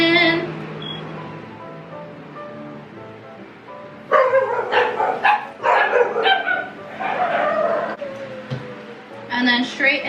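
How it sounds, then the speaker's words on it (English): Several dogs bark and yip in a home kitchen, in loud bursts separated by short gaps, with a whimper near the start and a voice briefly under it. "Sorry, I have to check the dogs because the dogs are going."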